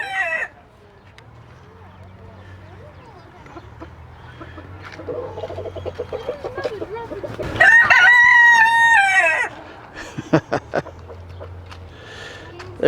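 Chickens at an old west town museum in Wichita, Kansas cluck softly and intermittently before a rooster lets out a loud, clear crow close by, followed by more scattered clucks and brief voices.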